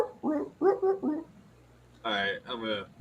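A dog in a movie scene gives a few sharp barks and yelps, loud and close, as short bursts in the second half, with people talking before them.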